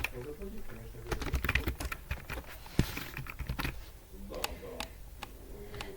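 Quick bursts of key clicks on a computer keyboard, irregular and close, with short pauses between runs and faint speech in the background.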